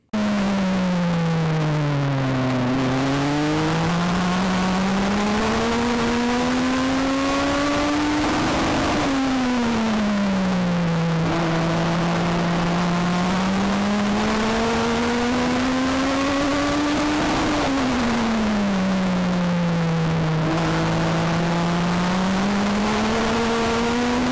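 A race car on track at Charlotte Motor Speedway during the Cookout Summer Shootout, with a loud engine roaring close the whole time as its pitch climbs and drops in repeated sweeps through gear changes and laps.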